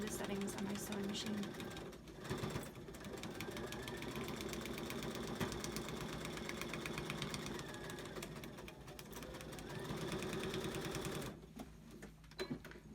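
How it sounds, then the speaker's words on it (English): A sewing machine paper piecing a quilt block runs in a fast, steady mechanical chatter, close and continuous, pausing briefly twice before resuming. "I haven't changed any of the settings on my sewing machine."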